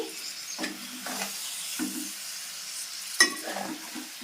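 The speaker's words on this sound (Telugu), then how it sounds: "ఇలా మెల్లగా కలుపుకోవాలి ఫిష్ పీసెస్ని" Fish pieces being gently stirred in a spicy Nellore-style tamarind fish curry in a pot, with soft scraping strokes over a steady bubbling simmer and one sharp clink of the utensil against the pot.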